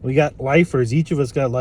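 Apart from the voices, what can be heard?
No distinct noise like a dog, phone or traffic.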